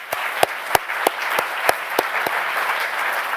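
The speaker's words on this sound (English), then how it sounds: "I think you deserve a round of applause as well, and so I'll give it to you." An awards ceremony audience breaks into steady applause, dense clapping with a few sharper claps standing out, moderately loud and without talk.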